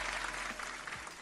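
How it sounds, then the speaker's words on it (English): A brief burst of crowd applause greets a showcase of alternative game attires, a dense wash of clapping that stays steady and fairly loud for about a second. "Hold on, round of applause."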